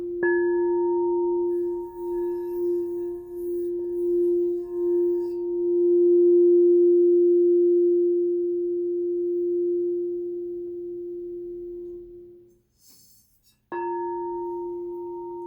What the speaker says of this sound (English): every time I play a singing bowl or a singing bell in one of my videos, you're receiving healing energy